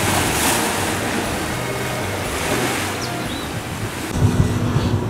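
Sea waves and wind on the Enoshima coast, a steady rushing wash of surf under gusty wind noise on the microphone, with a heavier low rumble of water near the end.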